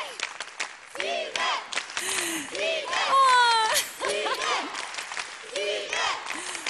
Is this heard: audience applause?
yes